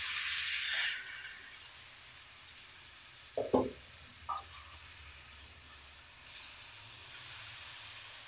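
Soft sizzling hiss of beef frying in a pan, a burst of louder crackle early, then a few clanks of a utensil against the pan.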